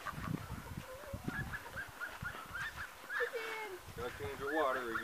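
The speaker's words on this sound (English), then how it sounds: "There's some chickens right now." Chickens cluck and squawk in short bursts, with other birdlike calls mixed in, fairly faint and near, over a low background.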